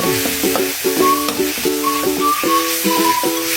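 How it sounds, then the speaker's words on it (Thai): Curry paste stir-fries in hot oil for a pork belly dish, a loud, continuous sizzle broken up by a rapid rhythm of spatula scrapes and tonal clanks against the wok. "เตรียมน้ำมันให้ ร้อนนะครับ แล้วก็ผัดเครื่องเข้าไปนะครับ"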